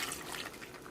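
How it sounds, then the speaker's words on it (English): Vinegar pours into a pot of humba, a brief, soft trickle of liquid with no voices. "now we're going to add ½ cup of the vinegar"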